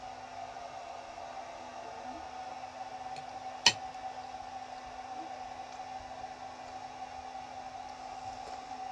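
A steady whooshing hum of a hair dryer runs throughout the indoor room at moderate distance, with a single faint clink near the middle and no talking.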